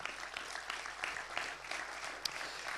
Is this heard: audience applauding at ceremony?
yes